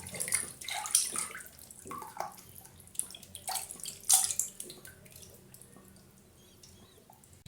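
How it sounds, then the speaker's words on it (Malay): Fish, Javanese barb for pekasam, rinsed under running water, with irregular splashing, sloshing and dripping close by, louder in the first half and quieter toward the end. "Sekarang kita cucikan semua"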